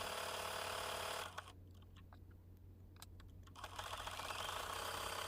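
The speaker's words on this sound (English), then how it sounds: "we'll finish the satin stitch on this cookie" A sewing machine runs a satin stitch on fusible appliqué, a fast steady buzzing rattle that stops for about two seconds with a few light clicks, then resumes.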